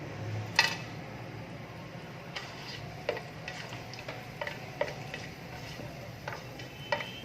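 Whole garam masala crackles in olive oil in a kadai, giving sparse sharp pops and ticks over a faint, low sizzle, with no talking.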